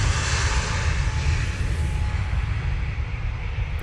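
An Airbus A320neo jet bound for Tenerife passes, a loud, steady engine roar with a low rumbling base and a faint tonal whine, heard outdoors without voices.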